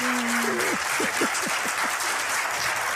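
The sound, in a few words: audience clapping in a played clip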